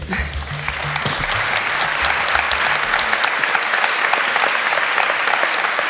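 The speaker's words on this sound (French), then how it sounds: "On peut les applaudir." An audience at a French debate event bursts into applause, starting over a low murmur and swelling into steady, dense clapping that fills the space.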